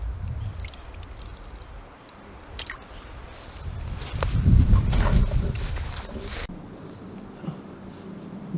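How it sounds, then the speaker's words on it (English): Several small streams trickle and gurgle steadily as they merge, swelling into a louder, rushing splash midway before settling back to a gentle flow. "There's a few streams kind of merging into each other."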